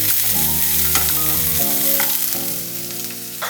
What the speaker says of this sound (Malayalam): 2 മിനിറ്റ് ഒന്ന് വഴറ്റണം